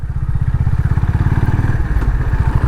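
Idling engine of a 2023 Honda CB 350 Highness motorcycle being parked at home, a steady close, loud low thumping pulse with slight clatter throughout.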